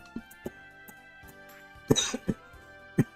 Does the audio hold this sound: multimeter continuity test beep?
no